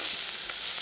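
Chopped onion and spice paste frying in a little oil in a pan for a cumin shrimp curry, giving a bright, continuous close sizzle with no voices.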